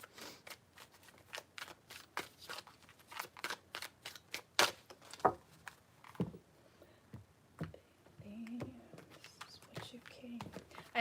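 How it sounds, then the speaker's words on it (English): A deck of tarot cards is shuffled by hand in quick, crisp riffling bursts, close and fairly quiet, followed by scattered softer handling sounds. "Three shuffles."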